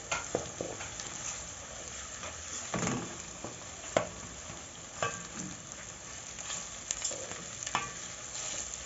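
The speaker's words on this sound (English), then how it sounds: "And then I'll add our tomato paste." Chicken frying in a pan for a wet fry as tomato paste is stirred in, with a steady low sizzle and scattered scraping strokes of a spoon throughout.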